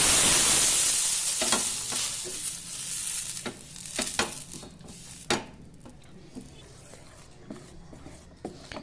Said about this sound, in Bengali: এবার আমি এর মধ্যে দিয়ে দিচ্ছি, যেমন ধোসা বানাই ঠিক সেইভাবেই আমরা বানাই সরু চাকলিটা